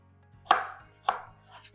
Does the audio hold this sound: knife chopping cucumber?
yes